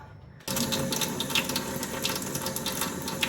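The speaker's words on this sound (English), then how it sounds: "I will just wash that with warm water." Warm water runs steadily from a tap while a face is washed during a skincare routine, a continuous close splashing flow that begins abruptly and keeps going, with no talking.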